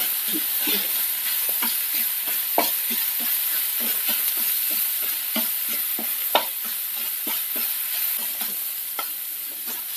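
Sliced onions sizzle steadily in a hot pan with salt and chili powder for an egg-stuffed chapati, with frequent scraping clicks of a spoon stirring through them, continuous and close with no talking.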